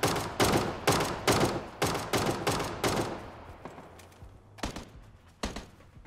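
Gunfire in the video game PUBG comes as a rapid string of sharp, close shots in quick bursts, then a brief pause and a few more scattered shots.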